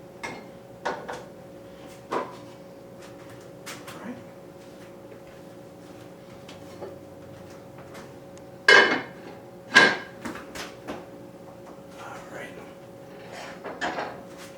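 A baking dish of bolognese sauce slid into a kitchen oven: scattered clinks and knocks of cookware and oven rack, with two sharper metallic bangs near the middle, amid quiet room tone.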